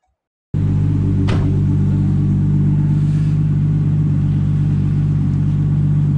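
A Nissan Skyline engine starts abruptly and then holds a loud, steady low rumble at close range, with a brief sharp transient early on and no speech.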